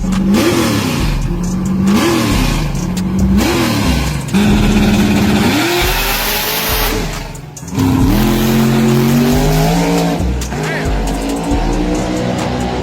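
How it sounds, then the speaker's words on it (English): A 4th generation Trans Am doing a burnout at a street race event, its engine revving hard in repeated rising surges with tire squeal, loud and close, with a crowd talking and shouting over it. "Nice burnout by the 4th generation Trans Am."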